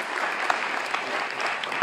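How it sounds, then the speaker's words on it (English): An audience claps steadily at a London tech investment panel on Chinese and Asian investment, a dense, even wash of applause with no talk over it. "Let's give them a round of applause."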